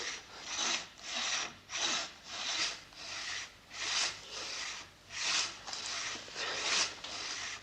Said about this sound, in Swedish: är det mitt träd de tänker såga ner?